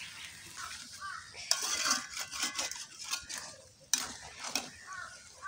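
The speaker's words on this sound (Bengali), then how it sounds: "আস্তে আস্তে এভাবে নাড়াচাড়া করে আচারটা বানাবো" Raw mango pickle being stirred in a pot over a wood-fired stove, with irregular scraping and clinking strokes and a couple of sharper knocks, close and fairly quiet over a soft background hiss.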